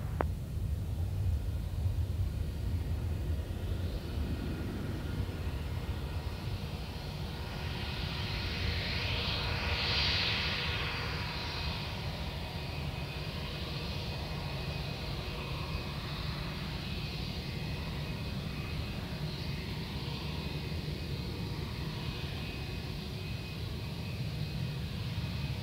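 A Jetstar Airways jet airliner takes off from Perth Airport on runway 03, a loud, sustained engine roar and rumble that swells with a hissing whine and carries on steadily as the aircraft climbs away.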